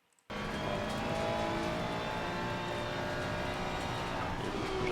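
A car on the Paul-Ricard circuit, heard from on board as its engine note drones loud and steady after a brief near-silent start, with a continuous whine and road roar throughout.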